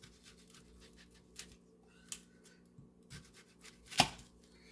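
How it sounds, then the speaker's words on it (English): A knife slices an onion on a cutting board in quiet, sparse cuts, a few soft taps and scrapes close by, with one sharper knock near the end. "now I will just slice this onion"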